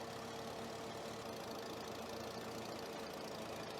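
A D45 tractor engine in Farming Simulator 22 chugs along at a steady idle, a low continuous rumble with faint knocking, quiet and unbroken with no voices.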